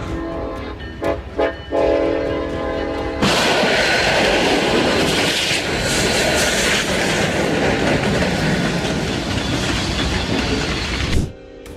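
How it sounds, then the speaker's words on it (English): A train in West Texas strikes a tractor trailer lodged on the tracks and drags it, a horn blaring before a sudden loud roar of grinding metal and rumbling wheels that runs on and then cuts off. "a tractor trailer became lodged on the tracks and was subsequently struck by a train"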